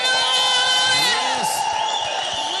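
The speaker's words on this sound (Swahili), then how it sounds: "Pigia Yesu shangwe na vigeregere" Church congregation at a live night service cheering, whooping and ululating for Jesus, a loud dense crowd roar with high trilling voices throughout.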